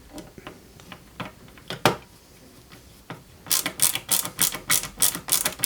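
A screw is driven into the metal rear section of a 1/8 scale Citroën C4 WRC 2008 model car, giving quick ratcheting clicks that start sparse and soft, then turn into a dense, louder run of sharp ticks near the microphone.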